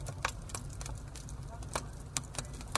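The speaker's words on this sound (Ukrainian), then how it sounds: "Це звук багаття на дачі" Sharp pops and crackles of a burning campfire, scattered irregularly over a low steady rumble, fairly close.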